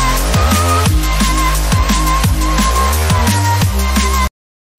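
Bassline from a drum-and-bass track, heavy and distorted with a sustained sub and growling upper tone, chopped into a quick rhythmic pattern with a high lead on top; loud, then it cuts to silence.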